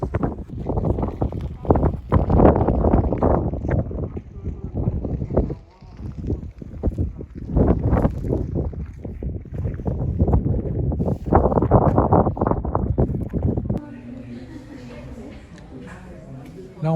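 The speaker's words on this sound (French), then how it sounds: "Il y a un vent d'enfer" Strong wind at the North Cape in Norway buffets the microphone in heavy low gusts, rising and falling, while voices talk over it. The roar drops away in the final seconds.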